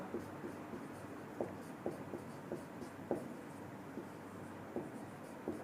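Chalk or marker writing on a classroom board during a physics lesson, faint repeated tapping and scratching strokes in an irregular rhythm against a quiet room.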